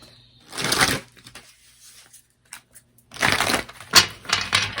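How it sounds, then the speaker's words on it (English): A deck of tarot cards is shuffled for a pick-a-card reading in two brisk bursts of riffling, each a loud papery flutter up close, with quieter card handling in between. "so let's pull some tarot cards"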